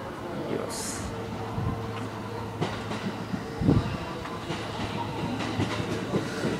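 A Kintetsu semi-express train pulls into platform 4 at Yamato-Saidaiji Station, rumbling and clattering steadily over the rails, with a brief sharp hiss early on and low mechanical drone throughout.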